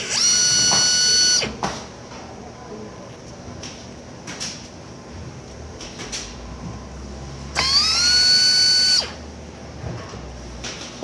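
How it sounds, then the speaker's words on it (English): A power drill removing two screws from a Nightingale 3D arm pad whines in two short bursts, winding up and spinning down each time, with quiet clicks and handling noises in between. "take your power drill and remove those two screws"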